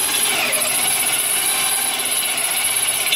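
A loud, continuous grinding whir of a power drill boring through a metal bed rail, steady and close throughout.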